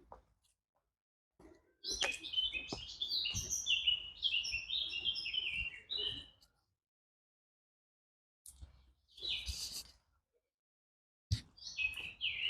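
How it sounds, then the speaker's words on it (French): Birds chirp and tweet in quick, high, overlapping bursts, busiest early on, then pausing and returning in shorter flurries outdoors. "On entend bien les oiseaux aussi."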